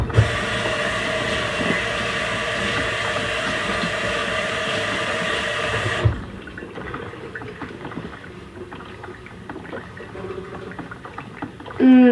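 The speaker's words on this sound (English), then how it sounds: "That way we can all enjoy the sound of the coffee brewing, as Travis would say." Coffee maker brews coffee in a kitchen, a loud steady hissing gurgle that cuts off sharply partway, leaving quieter faint clinks and rustles.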